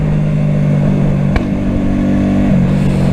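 A Honda Shadow VT125 motorcycle engine running loud and close, a steady rumbling drone with one sharp pop cutting through partway, and no talk.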